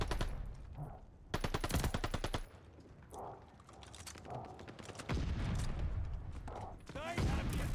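Gunfire in Call of Duty Vanguard ranked play, rapid automatic bursts broken by short pauses, loud and close, with a player's voice talking in the gaps.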